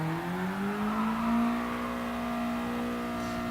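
A car drifting in Gran Turismo Sport after update 1.15, with a steady high engine whine rising in pitch and sustained tire squeal as it slides, loud and close without speech.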